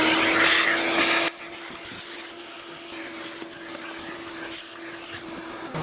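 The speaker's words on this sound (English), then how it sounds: "Here we go with the vacuum." A shop vacuum, a fairly large Tornador unit, runs loud and steady for about a second, then carries on at a lower, duller level with a constant whine while it works over dirt in a car's interior.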